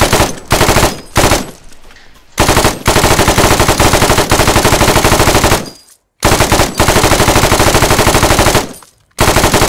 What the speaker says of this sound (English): I'm shooting at danger close.